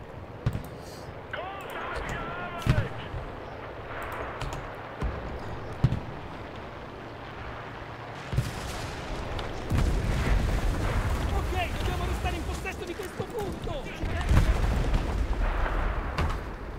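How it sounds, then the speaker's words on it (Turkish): Cannon and artillery fire in the WWII shooter Enlisted: several heavy booms spaced a few seconds apart, then a sustained low rumble of battle, with someone talking over the action. "Ha topla sıkıyor."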